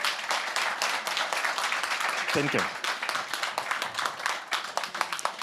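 Audience applause for a government minister at a Davos forum session, a steady wash of clapping running throughout, heard alongside a speaker's voice saying thanks.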